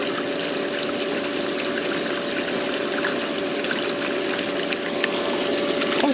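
A pool sand filter pump running during the rinse cycle, a loud, steady hum with water rushing and gushing continuously throughout, close by, no talking.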